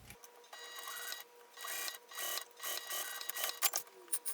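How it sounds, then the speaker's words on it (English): A sewing machine stitches along a clear vinyl edge, its needle chattering in fast, close bursts that pause briefly and restart, fairly quiet, with no voices. "I'm going to keep this pulled so that I can get a good, even sew down this vinyl edge here"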